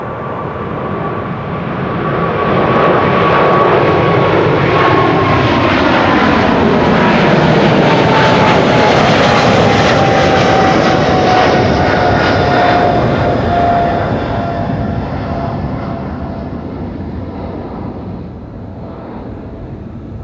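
A Qatar Airways airliner bound for Doha passes at Amsterdam Schiphol Airport, its jet roar swelling loud, holding, then fading as a high whine slides downward in pitch.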